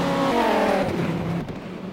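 A pack of Viper race cars in the racing game rFactor roars past in a loud, close burst of engine noise that fades quickly as the group moves away.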